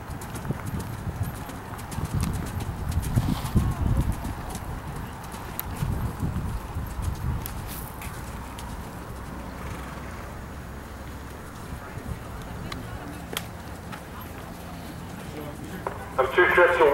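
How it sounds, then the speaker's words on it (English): Horses canter around an arena during a children's hunter class at a horse show. Soft rhythmic hoofbeats sound at a moderate distance while an announcer talks over the public address. "Children's hunter, show the canter."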